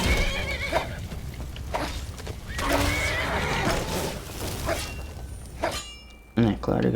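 A horse in the video game Skyrim whinnies loudly while attacking a creature, with hoof clatter, thuds and a shattering crash amid combat sounds, as someone talks over it.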